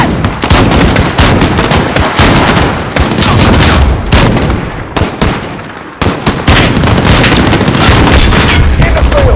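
Dense, loud gunfire in Call of Duty: Modern Warfare during a US Embassy siege, sustained automatic bursts and sharp shots rattling almost continuously with a brief lull, shouted voices buried underneath.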